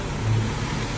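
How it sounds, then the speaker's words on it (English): A topsoil delivery truck at a pool demolition site, its engine running with a steady, loud, close rumble throughout the brief moment, no voices. "So here is the truck delivering the topsoil"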